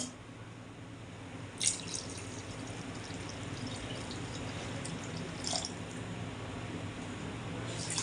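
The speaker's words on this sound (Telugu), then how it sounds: "ఇలా ఇందులో కొన్ని వాటర్ పోద్దాం" Water is poured onto tamarind in a bowl while preparing a chicken curry, producing a faint, steady watery trickle with a couple of small splashes and drips.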